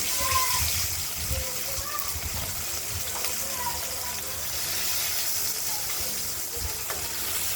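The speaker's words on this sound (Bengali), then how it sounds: "আমরা টমেটোটাকে ভাজা ভাজা করে নিচ্ছি।" Steady hissing sizzle of tomatoes frying in a pan on the stove, continuous and fairly close, with a person talking over it.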